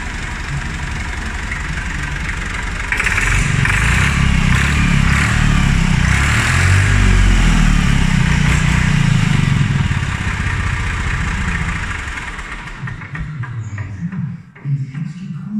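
A vintage Massey Ferguson 135 tractor engine runs loud and close with a steady low rumble and knocking, revving up for several seconds before settling back toward idle.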